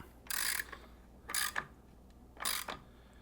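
A ratchet wrench snugs a motorcycle headlight bolt on a Harley Sportster or Dyna, three short close bursts of rapid clicking about a second apart, with quiet between them.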